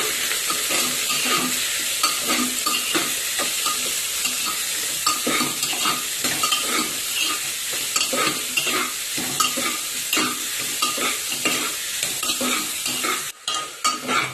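Chopped cabbage and beans stir-fried in a hot pan, a steady loud sizzle with repeated scraping strokes of a spatula against the pan throughout.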